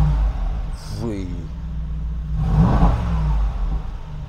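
A Mercedes G800 Brabus engine revving in Sport Plus mode, a deep rising growl that swells twice, with the second rev louder and fuller, and people talking over it.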